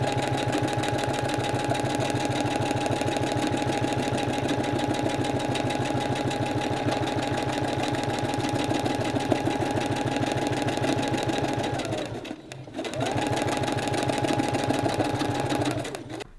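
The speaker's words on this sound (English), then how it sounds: "I'm sewing fast, but I'm moving the hoop very slow." Embroidery sewing machine fitted with a spring needle stitching fast for a long continuous run, a dense rapid mechanical whir that dips briefly near the end before resuming, close and steady with no talk.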